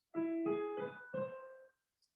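Four piano notes in a steady sequence, the last held and fading without resolving, leaving the phrase sounding unfinished. No talking.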